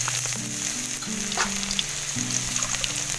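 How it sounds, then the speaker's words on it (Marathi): Garlic fries in hot oil in a kadhai for a tempering, giving a continuous close sizzle with faint stirring and a low steady hum in the background. "फक्त लसूण टाकायची फोडणीमध्ये, चांगली लाल करून घ्यायची."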